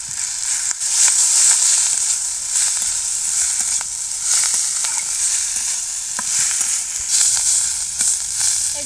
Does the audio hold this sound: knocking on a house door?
no